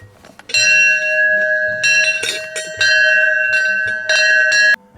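Bright ringing notification bell chimes struck repeatedly in close bursts, the one for switching on alerts on YouTube, each strike sustaining a clear metallic tone before the next, loud and alone with no voices.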